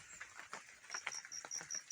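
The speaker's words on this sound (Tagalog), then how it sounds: "Umuulan, tumutulo ng tubig." Rainwater drips and patters outdoors in a quick, irregular series of soft taps, with a faint bird chirping now and then in the background.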